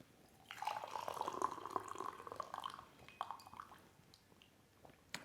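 Tea is poured off from a gaiwan in a thin, steady trickle lasting about two seconds, followed by a few soft drips and faint clinks in a quiet room.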